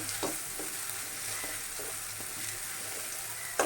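Continuous sizzle of vegetables and green chillies frying in a pan, punctuated by periodic scraping strokes of a stirring spoon and a sharp knock at the end.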